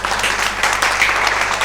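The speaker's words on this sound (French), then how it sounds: "Merci Juju, on peut l'applaudir." Audience applause after a karate segment of a comedy sketch, a steady dense burst of clapping that fills the whole moment with no talking over it.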